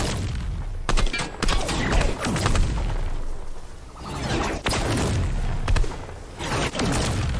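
Video game gunfire booms and crackles in heavy, repeated bursts, with loud thudding blasts and whooshes mixed through a dense, close battle din, without speech.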